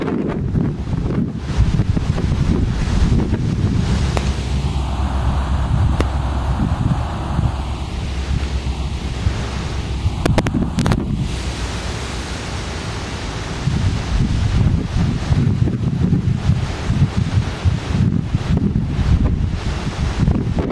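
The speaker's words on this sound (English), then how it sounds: "pretty windy day today" Strong wind buffeting the microphone outdoors near a railway brickyard, a steady loud roaring rush with gusts and rustling throughout, alone without speech.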